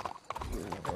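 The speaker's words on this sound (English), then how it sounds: "Let's hitch the horses up ahead." Horse hooves clip-clop steadily on the ground in Red Dead Redemption 2, close and fairly loud, with a brief whinny-like tone over the hoofbeats.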